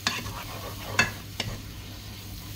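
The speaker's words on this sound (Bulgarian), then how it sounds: "Си запържвам" Vegetables frying in a pan make a soft, steady sizzle, with a couple of brief scraping stirs in the middle.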